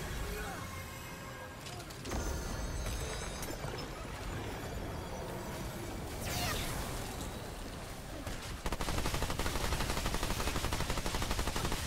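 Rapid gunfire in the video game Remnant 2 during a Bloat King boss fight, dense bursts of shots layered with game effects and music, while players talk over the action.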